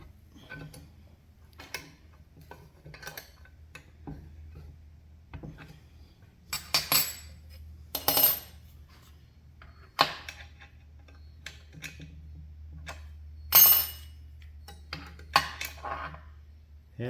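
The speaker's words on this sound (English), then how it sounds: "9/16 end wrench" A 9/16 end wrench tightens bolts while a G6 belt grinder is assembled, giving sparse, close metallic clicks and clinks at uneven intervals over a low background hum, with no talk.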